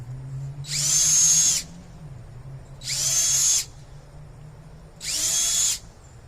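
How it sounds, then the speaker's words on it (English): A power drill bores holes into a pumpkin for carving, whirring in three short bursts of about a second each, separated by brief pauses, over a low steady hum. "Start by making a couple holes down here."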